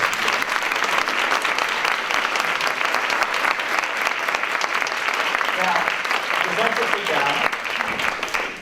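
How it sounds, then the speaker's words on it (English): Audience at a talk on dyslexia applauds dyslexic attendees who have stood up, a dense, loud, sustained wash of many hands clapping that holds steady throughout without a break. "let's give them a round of applause"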